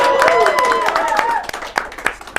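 Scattered hand clapping from an audience at an Indonesian talk event, a few sharp claps rising near the end after a voice with a musical tone fades out.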